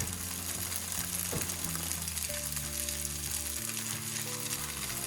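Tofu fries in a pan while the other side cooks, giving a continuous, even sizzle with faint scrapes and stirring clicks. No voices are heard.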